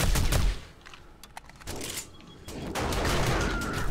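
Automated turrets fire in the survival game 7 Days to Die during a Darkness Falls horde night, sustained rapid gunfire bursts with a brief lull in the middle, loud and dense throughout.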